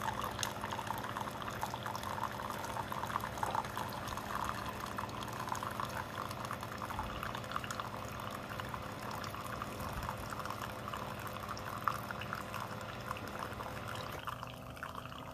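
Hot rinse water streams from a Keurig K-Duo into a cup after brewing strong tea, a steady gurgling pour with faint bubbling that holds throughout and eases off at the close.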